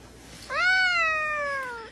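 A house cat lets out one clear, drawn-out meow that rises and then slowly falls, close by and alone in a quiet room.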